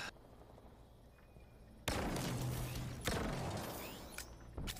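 Halo Infinite big team battle: after a quiet stretch, loud bursts of gunfire and impacts break out, with a second sharp burst a moment later and continued shooting.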